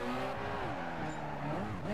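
Tires squeal and an engine strains as a car drifts through canyon curves in Need for Speed: Carbon, a steady loud sliding whine with shifting pitch, no talking.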